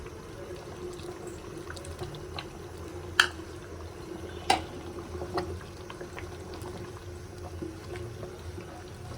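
Onion, garlic and panch phoron tempering is poured into a jackfruit and beef curry thickened with flour. A steady low bubbling simmer runs throughout, broken by two sharp metallic clinks near the middle.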